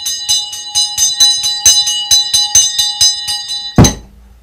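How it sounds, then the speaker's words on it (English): Small hand bell rung during a seance, clanging rapidly and evenly in a loud, bright peal of about a dozen strokes, ending with a sharp clatter as it is set down. "With this ringing of this bell, we lift the veil twixt heaven and hell to call the spirits to us now"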